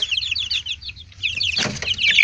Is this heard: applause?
no